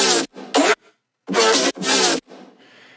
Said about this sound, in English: created a distorted vocal chop with it